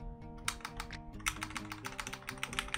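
Four programmable shortcut keys on a pen tablet being pressed in a quick run of clicky, keyboard-like taps, close and fairly loud over a low, steady tonal background.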